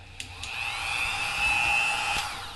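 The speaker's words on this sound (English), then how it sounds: "I got my 1mm drill bit. We're going to drill all the way around to get this piece out" A small rotary drill with a 1mm bit bores into the plastic of a 1/1000 model starship kit, giving a steady high whine that swells and fades close by, with a few faint clicks and no talking.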